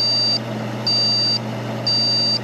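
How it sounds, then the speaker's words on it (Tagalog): A desktop computer motherboard gives its POST beep code at startup: three evenly spaced high electronic beeps, each about half a second long, over a steady low fan hum. "Okay, so tatlong beep siya, magkaiba."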